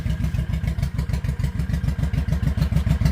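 A 2004 Honda Shadow VT1100 Sabre motorcycle engine runs close by with a loud, lopsided, rhythmic thumping idle, its even pulses repeating steadily throughout.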